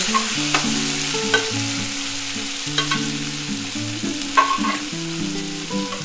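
Tomatoes stir-fried in a pan for Bengali chickpea dal, a steady sizzle with repeated scraping stirs and occasional sharp utensil knocks, close and continuous with no talk.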